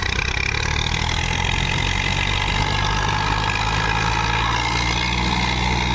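A Swaraj 855 tractor engine runs loud and close with a continuous, steady low-pitched drone, held at raised revs throughout without pause.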